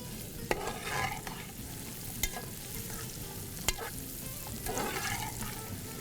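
Carrots, raisins and almonds frying in ghee, a steady sizzle under repeated stirring with a few sharp utensil scrapes and knocks against the pan, close and continuous with no talking.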